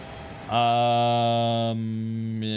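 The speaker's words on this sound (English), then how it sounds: "Again, I apologize for the sound of the plane." A steady, tonal airplane engine drone from a Factorio mod starts abruptly and holds loud and constant, shifting slightly partway through, with no speech over it.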